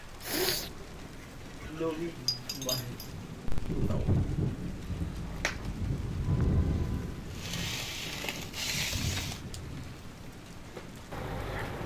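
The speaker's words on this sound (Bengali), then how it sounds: "বাহিরে এখন রিমঝিম রিমঝিম বৃষ্টি হচ্ছে" Steady rain pours outside with a couple of deep thunder rumbles rolling through, while a person speaks over it and kitchen sounds come and go during cooking of khichuri.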